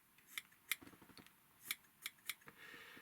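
Small scissors snip near and faint while trimming the body of a fly-tying leech, with about half a dozen sharp, irregular cuts in a quiet room.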